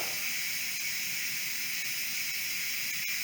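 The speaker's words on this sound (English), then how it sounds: "steam's still coming out." Steam hisses steadily out of a pressure cooker cooking jambalaya, a continuous loud rushing hiss with no talking over it.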